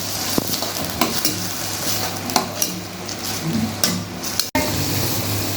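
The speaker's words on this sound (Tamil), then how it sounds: "வெங்காயம் சேர்த்து வதக்குவேன்." Onions sizzle and crackle in a hot pan, with a spoon stirring and scraping at intervals, close by and steady throughout.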